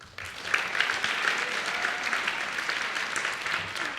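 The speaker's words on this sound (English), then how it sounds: "give your families a round of applause" An audience at a high school senior salute ceremony claps steadily in sustained, dense applause honoring the seniors' families, filling the space evenly from start to finish with no talking.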